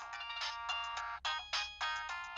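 Phone on speakerphone playing a tonal, melodic ringtone in repeated bursts with short gaps between them, loud and clear with no voices.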